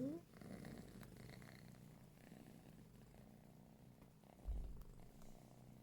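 A pet cat purrs steadily and softly at close range for several seconds, a continuous low rumble with a brief louder thump near the end.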